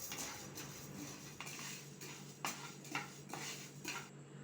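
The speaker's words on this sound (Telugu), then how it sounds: "ఇప్పుడు అదే కడాయిలో 1 కప్పు పచ్చిశనగపప్పు తీసుకున్నాను. దీన్ని కూడా నెమ్మదిగా కలుపుతూ వేయించుకోవాలి." A cup of chana dal is stirred as it slowly roasts in a kadai, giving soft, rhythmic scraping and clinking of a spoon against the pan; quiet and close, with no talking.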